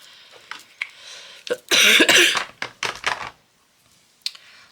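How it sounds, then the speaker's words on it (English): A short burst of harsh coughing, a few rough hacks close to the mic, surrounded by quiet room noise and faint clicks. "Oh, it's dreadful cough."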